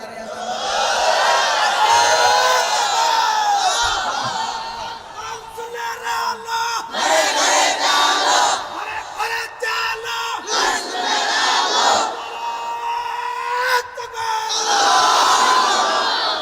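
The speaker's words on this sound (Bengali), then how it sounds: "একটা বার, শেষবারের মতো একটু নারায়ে তাকবীর দিয়া দাঁড়িয়ে যান" A large gathering of men roars the Nara-e-Takbir chant in loud, repeated call-and-response waves, a leader's shout alternating with the massed crowd's bellowed reply several times.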